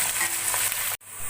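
Sliced onions frying in oil in a pan for mutton paye, a steady close hiss and sizzle that cuts out briefly near the end, then resumes.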